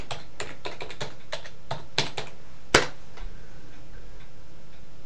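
Someone types a password on a computer keyboard, tapping a quick, light run of separate keystrokes in a quiet room, ending with one sharper, louder key press.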